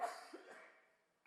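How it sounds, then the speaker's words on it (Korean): A single short cough from a person, close and brief, fading into a quiet tail with a faint sound at the very end. "제가 기침이 좀 심해서"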